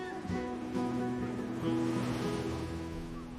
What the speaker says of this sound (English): Just sitting here and listening to the waves is relaxing enough.